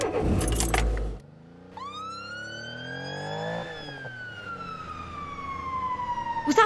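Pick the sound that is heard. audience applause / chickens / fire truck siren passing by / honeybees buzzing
fire truck siren passing by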